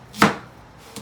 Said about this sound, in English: So I'm going to cut our onion in half.